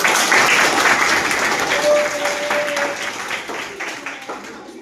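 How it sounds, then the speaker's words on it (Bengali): Applause from a classroom audience of ninth-grade students at a guidance session, a dense sustained burst of many hands clapping that stays loud throughout and tapers slightly toward the end. "একটা হাততালি"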